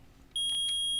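Electronic metal detector beeping in the Phoenix Wright: Ace Attorney video game, a sharp high-pitched tone starting partway through with a few pulsing beeps, loud and alone over a low background hum.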